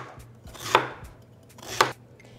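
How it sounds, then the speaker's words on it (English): Ginger cut into small pieces with a knife on a board, giving two crisp, distinct chops about a second apart with faint lighter taps between, close and alone without talk. "And then cut your ginger into small pieces."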